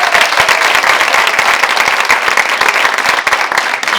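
An audience at a children's show claps loudly and continuously, a dense, lively patter of many hands filling the room for the full stretch.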